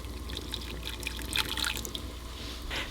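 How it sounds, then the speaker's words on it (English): Water pours into a pan holding glutinous rice dough, a close, soft splashing trickle with a few drips and a slightly stronger gush near the middle. "Place this into the pan along with some water."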